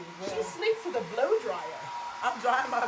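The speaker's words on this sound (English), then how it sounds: "Yes, she sleeps with a blow dryer." A blow dryer runs steadily close by, its constant whir sitting under people talking throughout.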